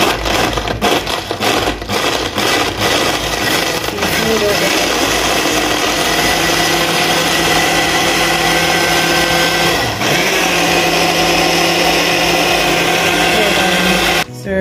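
A large, powerful blender crushes ice for a pink smoothie, running loud and continuously throughout with a steady motor roar and gritty grinding, with a brief dip in pitch midway as the load shifts.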